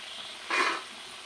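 Nim puri pitha frying in hot oil gives a brief, soft burst of sizzling that swells and fades within a moment, with no voices over it.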